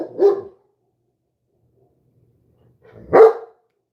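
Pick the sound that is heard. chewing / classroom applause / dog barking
dog barking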